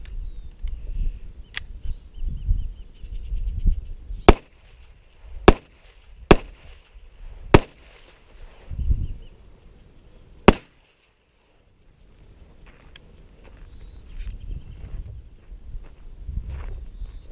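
A Smith and Wesson 422 pistol fires five rounds of CCI ammunition, giving sharp, loud cracks spaced about a second apart, with quieter handling noise and low rumble between the shots.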